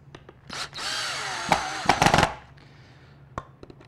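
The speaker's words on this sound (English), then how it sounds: "Tighten our screws a little bit." A power drill drives screws into a turkey tail and beard taxidermy mount in bursts of whirring, with a long steady run and then shorter spurts separated by clicks and handling noises, close and fairly loud.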